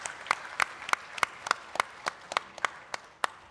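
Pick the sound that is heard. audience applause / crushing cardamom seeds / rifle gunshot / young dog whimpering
audience applause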